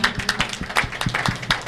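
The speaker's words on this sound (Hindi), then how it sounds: "इसे जोर से ताली बजा के प्रभु का धन्यवाद करें" A church congregation claps loudly together during a prayer service, a brisk run of rhythmic, sharp handclaps close by, with faint music or voices underneath.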